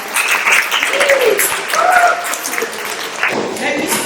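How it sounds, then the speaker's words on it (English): An audience at a Birmingham youth conference applauds its panelists, a sustained patter of many hands clapping that rises and falls over about four seconds while a voice speaks on top. "We have now the round of applause for our panelists."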